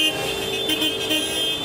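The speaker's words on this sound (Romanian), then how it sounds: "din nou șoferii de pe mașinile de la salubritate din sectorul 5 trec din nou și claxonează" Garbage truck horns honk in a steady, loud, sustained blare outdoors, with no talking over it.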